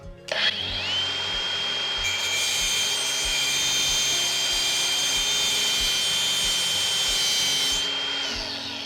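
Ridgid cordless angle grinder (R86047B) cutting through screws, a loud steady high-pitched whine with a brief spin-up at the start, holding constant for about eight seconds before winding down, no talking.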